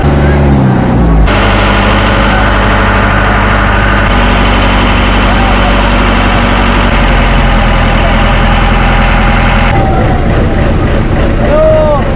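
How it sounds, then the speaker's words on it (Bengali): A boat engine runs loudly up close as the boat reverses away from a Sundarbans jungle fair landing, a heavy steady drone with strong low rumble and shifting pitch, people talking over it at times. "নৌকায় উঠে গেছি"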